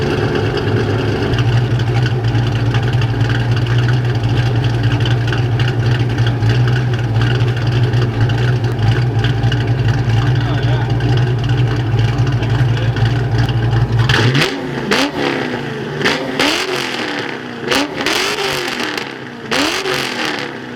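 A Ford Mustang Foxbody engine idles with a deep, steady drone through a loud custom exhaust, then revs sharply several times in quick bursts near the end.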